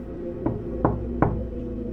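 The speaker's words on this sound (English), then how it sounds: "there came a knock at the front door. Sharp and hollow." Three sharp, hollow knocks land on a front door at an even, unhurried pace, each one crisp and close against a quiet, muffled room tone.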